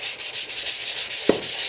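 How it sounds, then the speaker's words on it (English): Light sanding on a fiberglass R/C model aircraft cowl makes a soft, steady rhythmic scratching close by, with a single small knock near the end. "I started just sanding lightly all over"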